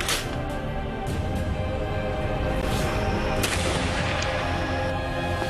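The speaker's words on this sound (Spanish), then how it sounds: "uno de estos soldados, ¿no?, lo que hace es tomar su arcabuz, apuntar y dispararle al brujo Zapata" An arquebus fired by a soldier, heard as a dense, sustained roar with sharp cracking bursts throughout, loud and continuous with no quieter gaps and no talk over it.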